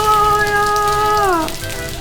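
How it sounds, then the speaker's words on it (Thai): Rain falls at a resort in Hua Hin, Thailand, a dense, close, steady patter on hard surfaces. A thin whining tone rides over the rain, then slides downward and fades partway through. "ฝนตกลงมานะคะ"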